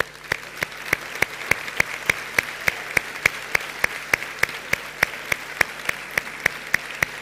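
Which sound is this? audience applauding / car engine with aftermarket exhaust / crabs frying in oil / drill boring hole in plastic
audience applauding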